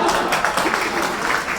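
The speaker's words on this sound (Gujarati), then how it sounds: "ભાઈ આ તાળીઓ મારી માટે નથી હો, આ ખલીલ ધનતેજવી માટે છે" Brief burst of audience applause in a university lecture hall during a talk on Gujarati lyric poetry, dense clapping filling the whole moment.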